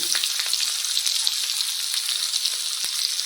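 Chopped onions dropped into hot oil in a pan sizzle and crackle steadily up close, a bright continuous frying hiss with small pops and no voices.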